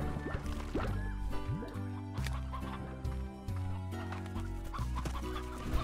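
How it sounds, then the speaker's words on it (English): Chickens cluck in the Slime Rancher video game, repeated short calls over a dense, continuous game soundtrack, with a few louder squawks near the end and no talk. "My poor chickens! They're getting eaten by ravenous plants."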